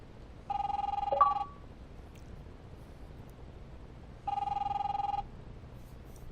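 A telephone in the game The Wolf Among Us rings in two separate electronic trills, each about a second long, with a quiet pause between them over faint background hiss.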